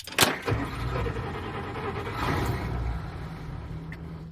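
A car engine at Johnson Valley cranks and catches after a sharp click at the start, then settles into a steady, close, rumbling idle with no talking.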